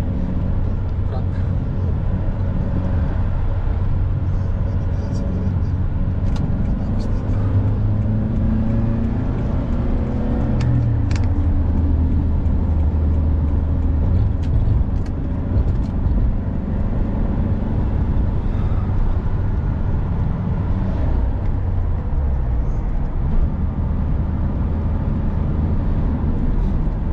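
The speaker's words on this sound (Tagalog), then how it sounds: "Biglang sumisingit yung mga kotse." Cars and trucks speed along a highway in Saudi Arabia, heard from inside a moving vehicle as a steady, loud road roar and engine drone with no breaks.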